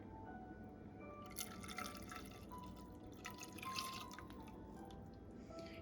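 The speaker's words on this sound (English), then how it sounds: "I'm gonna pour it into our glaze right now" Faint rum trickles and drips into a bowl of glaze, a soft uneven pouring sound over a quiet background hum.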